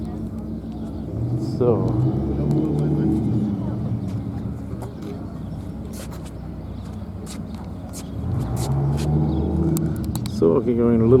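A Dodge Viper drives past at a retro and classic car show in Weil der Stadt, its engine rumbling low and steady, then swelling louder near the end beneath someone talking close by.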